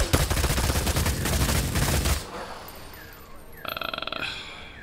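A minigun in Vampire: The Masquerade - Bloodhunt fires a loud, dense, rapid rattle at close range for about two seconds and then stops, followed by a quieter pause and a short buzzing mechanical whir.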